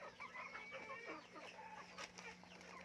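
Chickens cluck softly in a short, faint stretch of overlapping calls against a low background hum.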